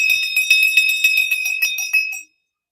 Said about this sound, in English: You're going to jingle bells like you're ready for takeoff